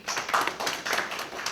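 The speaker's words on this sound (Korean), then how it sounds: "박수 한번" A short burst of clapping from a small academic conference audience, a dense patter of hands that stays fairly even for a second or two.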